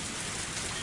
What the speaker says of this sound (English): It's very late and raining very hard.